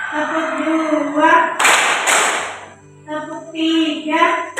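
Pupils in a classroom give a short, sharp round of claps in a counted clapping routine. The claps land between stretches of a teacher's spoken voice.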